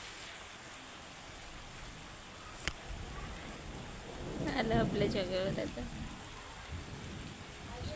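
Steady rain falling at night during a windstorm, a broad hiss throughout with one sharp crack and a louder surge midway; a person speaks briefly over it.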